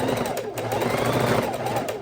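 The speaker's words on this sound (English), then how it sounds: "And it's called chain stitching when you put them one after another" A sewing machine runs steadily while chain stitching 2 1/2 inch quilt scraps one after another, a fast, even mechanical whir and rattle close up and continuous throughout.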